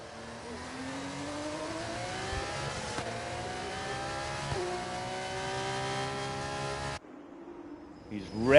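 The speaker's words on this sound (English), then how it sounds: "He's revving the brains out of that little car." A small Formula 2 race car engine screams on the rev limiter with rising, bouncing pitch for several seconds, then cuts off abruptly, followed by faint background noise.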